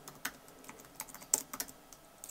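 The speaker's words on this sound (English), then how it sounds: "Yeah, still can't type, just not getting any better." Fingers tap a computer keyboard close by in a quiet room, a sparse irregular run of light clicks with short pauses between keystrokes.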